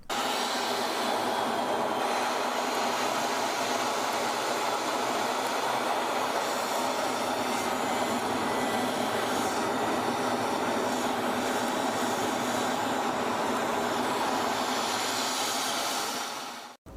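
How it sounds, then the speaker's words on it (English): Inside an F-16 fighter jet diving straight down, a loud, constant broadband roar fills the whole stretch with little change, then cuts off abruptly at the end. "This is what it's like to fly straight down in an F-16 fighter jet."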